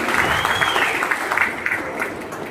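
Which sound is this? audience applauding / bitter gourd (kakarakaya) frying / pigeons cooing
audience applauding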